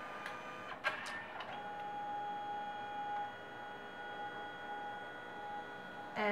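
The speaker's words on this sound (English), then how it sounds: "And it's printing." A Canon Selphy photo printer prints: faint, steady mechanical whirring with a sustained whine and a few clicks, close by in a quiet room, no speech.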